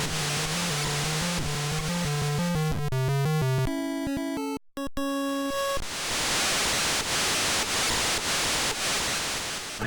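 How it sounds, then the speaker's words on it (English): Wave sound effect from the NES game Karateka, made with the console's white noise channel: a loud, steady hiss that swells in after a short melodic jingle and continues without talk. "I don't know how they got that wave sound effect in an NES game. It's probably just the white noise sound."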